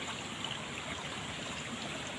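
Steady close rush of water flowing through a stream or roadside ditch in a cool rural village in West Java during an afternoon of rain, a continuous broadband hiss with no pauses and no voices.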